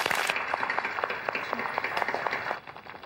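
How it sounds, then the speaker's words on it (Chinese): An audience at a contest show claps in a dense burst of applause to welcome a contestant, loud at first, then dropping off sharply near the end. "大家掌声欢迎"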